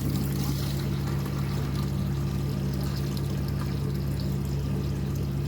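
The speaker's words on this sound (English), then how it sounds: "So I'll pour all the water off." Water poured out of a bioactive reptile tank build with gravel in it, a steady continuous splashing pour held at an even level throughout, with a low constant hum underneath and no talking.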